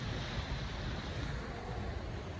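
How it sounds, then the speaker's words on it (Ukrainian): Sea waves wash steadily onto a beach in Ayia Napa, Cyprus, a continuous close surf hiss with some wind buffeting and no voices. "Тут хвилі"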